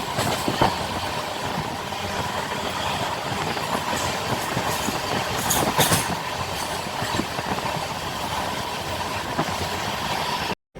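A train rolls along the rails as it pulls into Siliguri Junction, a steady, close rumble with clattering wheel beats and brief metallic squeals that runs unbroken for about ten seconds before cutting off.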